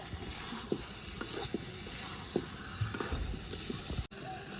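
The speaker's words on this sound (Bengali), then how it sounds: "অল্প সামান্য চিনি দিয়ে দিব মাছের মধ্যে আর একটু কষিয়ে নিব" Masala for a hilsa fish curry with potato and eggplant sizzles in a pan while a spoon scrapes and stirs it in soft, irregular knocks, with steady frying hiss throughout at moderate, close range.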